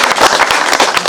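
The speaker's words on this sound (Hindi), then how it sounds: "जोरदार तालियां बजाओ" An audience at a public program in India bursts into loud, dense clapping, the close, crackling rapid claps overlapping in one continuous burst.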